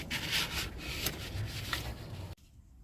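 A rag or pad rubs over an engine surface during a rear main seal replacement on a 2014 Ford Transit Connect 2.0, giving quiet, close scrubbing strokes that stop abruptly near the end.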